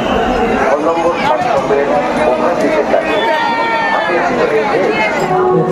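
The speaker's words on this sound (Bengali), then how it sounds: "শেওড়াফুলি রেলওয়ে স্টেশনে যে পরিমাণে ভিড়, মানে মারাত্মক লেভেলের ভিড়।" A dense, loud crowd fills a busy Sheoraphuli railway station platform, constant overlapping chatter and babble from many voices with footsteps and movement mixed in, close and continuous throughout.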